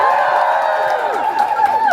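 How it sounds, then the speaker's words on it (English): A large crowd cheers and roars steadily inside Wembley Stadium at the FA Cup Final, a dense, sustained wall of voices that fills the whole moment without pause. "I'm really impressed by the cheering right now"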